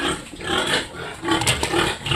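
Pigs grunt and squeal in a pen on a pig farm, sows among them, a noisy cluster of animal calls rising and falling close by.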